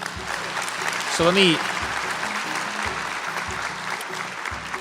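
A studio audience claps and cheers at a live television talk show, a dense burst of applause that holds steadily throughout while a voice speaks over it.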